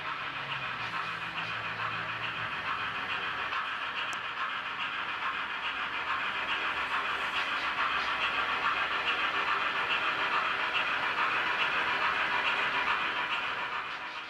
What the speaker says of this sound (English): Our train is now entering the tunnel at the end of the main line.